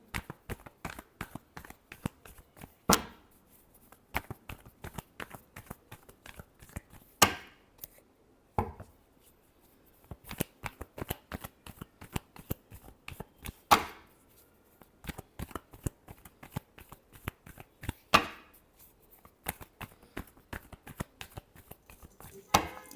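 Tarot cards being shuffled by hand, a run of soft, rapid papery riffles and flicks broken by sharper slaps as the deck is squared, close up and fairly quiet, with no talking.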